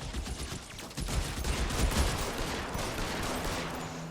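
Gunfire in the video game L.A. Noire, a dense, continuous barrage of rapid shots layered into a loud, noisy wash, with no talking.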